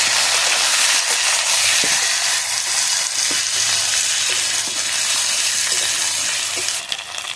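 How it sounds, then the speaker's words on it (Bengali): Ginger-garlic paste fried with potatoes and onion in oil, a loud, dense, continuous sizzle with periodic spatula scrapes and stirring knocks, close up and without talk, easing slightly at the end. "আদা রসুন আলু পেঁয়াজ ভালোভাবে লাল লাল করে ভেজে নিয়েছি"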